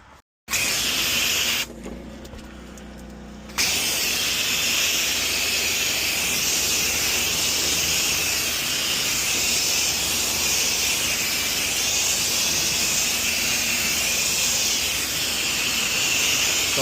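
A pressure washer with a low-pressure white-tip nozzle sprays siding during oxidation removal, a loud continuous broadband hiss that cuts out briefly near the start, drops lower for a couple of seconds, then runs steadily to the end.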